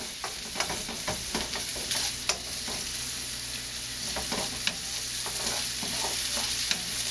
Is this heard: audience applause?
no